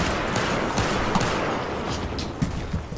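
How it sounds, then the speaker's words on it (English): Pistol fire in the BFHD PRO 2 game, USMC weapons, a dense stream of loud overlapping gunshots with repeated sharp cracks over constant battle noise, no speech. "Meanwhile, this is the pistol."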